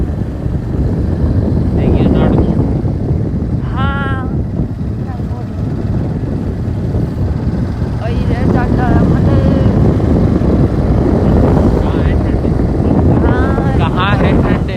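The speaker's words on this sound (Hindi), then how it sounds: "इतनी ज़्यादा हवा लग रही थी" Strong wind roaring loudly and continuously into the microphone while riding, a dense low buffeting rush that persists throughout, with a voice speaking intermittently underneath.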